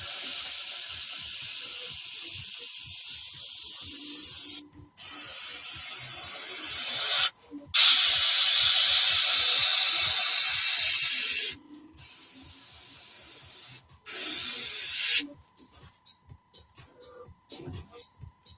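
Airbrush spraying paint in bursts of steady hissing, several long blasts separated by short pauses, close and loud, ending in quick short puffs.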